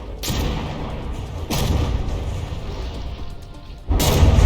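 Battleship shells firing and striking in the naval combat game From the Depths, three heavy booming blasts with rumbling tails, the last one loudest, over continuous low battle noise.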